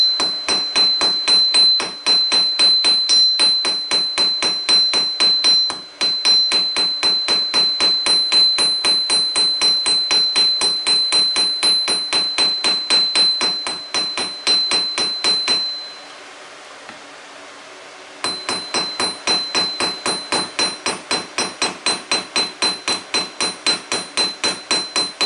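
Rapid, regular ringing hammer blows peen and elongate a copper taper on a metal surface, a continuous metallic tapping with a sustained high ring, a brief pause, then more steady strikes.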